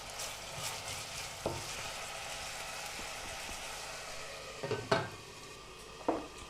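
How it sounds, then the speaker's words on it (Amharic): Chopped red onions drop into hot oil in a pan and sizzle steadily, with a few sharp clinks and scrapes of a utensil stirring against the pan, close and moderately quiet, with no talk. "ለመቀጠል እንግዲህ ሽንኩርቴን ነው የምጨምረው"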